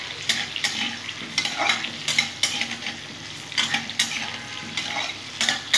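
Potatoes fry in oil until reddish while a utensil stirs them, producing a continuous sizzle broken by regular scraping strokes against the pan, close and fairly loud with no speech.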